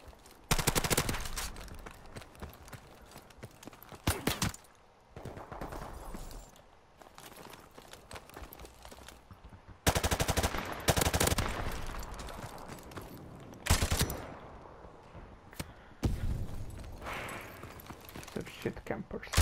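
Repeated bursts of automatic gunfire in a shooting video game, loud and close, coming in several long volleys separated by short pauses, with a voice talking over parts of it.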